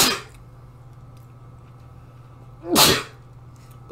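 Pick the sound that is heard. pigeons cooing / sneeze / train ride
sneeze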